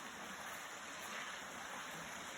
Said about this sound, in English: That's all the water down there.